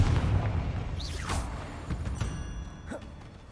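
A Confringo fire spell explodes in Hogwarts Legacy: a deep booming rumble with whooshing sweeps and sharp bursts, over continuous game background noise.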